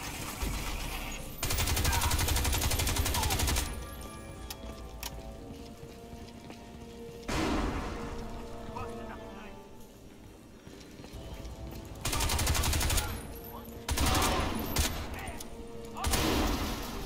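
Bursts of gunfire from a weapon in the video game Crysis 2, several loud rapid volleys separated by quieter stretches of game ambience.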